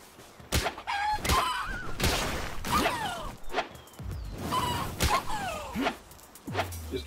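Chickens in the Palworld video game clucking and crowing in repeated loud bursts, with sharp swooshes and impact hits mixed in as the birds are attacked.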